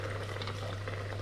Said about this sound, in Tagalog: Lagyan po natin siya ng wine.